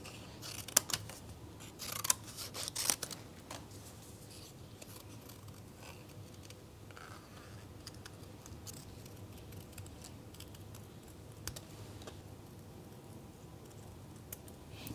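Scissors snip through stamped card-stock paper, cutting out a small character and an apple shape, with a few quick, close, faint snips early on and then soft paper rustling.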